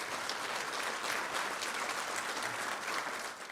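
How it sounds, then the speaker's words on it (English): Sustained audience applause at a memorial lecture, a dense steady clapping from a large crowd that stays loud throughout and fades slightly at the end. "Let's all first give him a huge round of applause."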